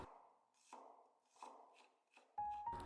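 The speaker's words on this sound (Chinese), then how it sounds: "生姜切片" A knife slices fresh ginger on a cutting board in a home kitchen, making three or four soft, evenly spaced cuts, each a brief crisp tap, followed by a louder clatter at the end.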